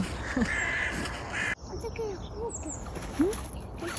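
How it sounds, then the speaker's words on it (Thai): A crow caws several times outdoors in Sweden, short harsh calls at moderate distance, while someone speaks over them on a sunny walk. "กาเหรอลูก"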